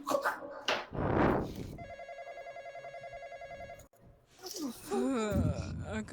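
A telephone rings in a video game, a steady electronic ring lasting about two seconds between bursts of loud talk and breathy exclamations.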